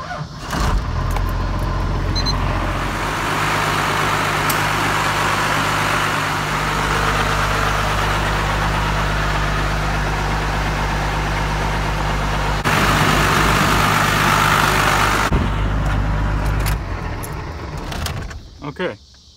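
A diesel Cummins-swapped crew cab truck engine idles steadily with a deep, constant rumble throughout, close and loud, with a brief rattle partway through.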